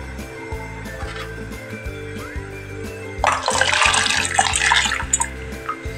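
Water pours into a cooker for boiling lentils, starting at around three seconds as a loud splashing gush that runs for about two seconds over a steady background hum, then tapers off.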